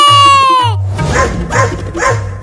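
A cartoon dog starts with a drawn-out whining howl, then gives three evenly spaced barks, loud and close.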